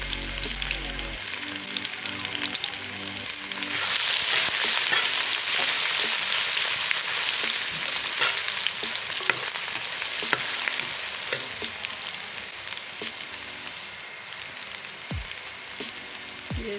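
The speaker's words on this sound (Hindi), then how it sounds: "प्याज हमारा फ्राई हो गया। मैं लहसुन अदरक का पेस्ट शामिल कर रही हूँ।" Garlic-ginger paste hits hot oil with fried onions for aloo matar pulao, bursting into a loud, steady sizzle that carries on for many seconds while it is stirred, with occasional utensil clicks.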